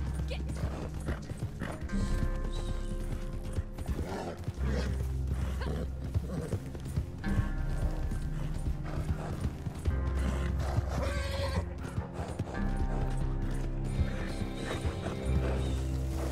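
Horse hooves clip-clopping at a gallop in Red Dead Redemption 2, with neighs and whinnies over game music and a barking dog, while a voice talks over it.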